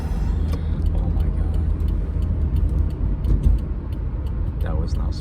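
A car engine rumbles past on the street, with clicks and voices over the traffic noise.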